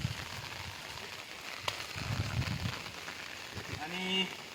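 A soft patter of light drizzle after heavy rain hisses steadily in the background near a pond, with a faint tonal voice or hum rising near the end.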